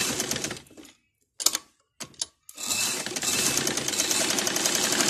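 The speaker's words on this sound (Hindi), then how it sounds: "अभी आपको लगा कर हम दिखा रहे हैं मशीन से कि ये सी पाइपिंग के साथ हम सिलाई कर देंगे।" A sewing machine stitches a readymade kurti sleeve with piping, whirring in close bursts that stop and restart, then running on steadily.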